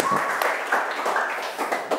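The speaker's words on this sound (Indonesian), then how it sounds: "Tepuk tangan dulu dong buat." Studio audience at an Indonesian talk show clapping, sparse, uneven claps and taps with small bursts rather than a full roar, fairly close, with a faint voice underneath.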